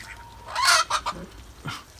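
Ducks at feeding time give several loud, nasal honking quacks in a quick uneven burst, with one more call after a short pause, nearby and with no talk.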